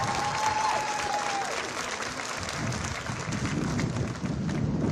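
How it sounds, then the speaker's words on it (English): Audience applause at a middle school eighth grade recognition ceremony, a steady sustained wash of clapping from a large crowd, with a faint whistle early on and some murmuring underneath. "give them a nice round of applause"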